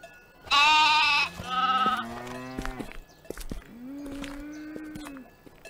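Sheep in the farming video game Ludus bleat several times, close and clear, each cry wavering and drawn out, with a lower, longer call near the end and no talk over them.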